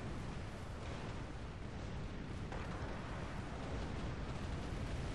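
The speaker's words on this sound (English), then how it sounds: "Alright, that's a lot of cannon fire." Cannon fire in the video game Tempest comes as a dense, continuous rumble of overlapping booms and bursts, heard at a distance and fairly low in level, with no clear gaps between shots.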